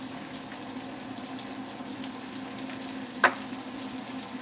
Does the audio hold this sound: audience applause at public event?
no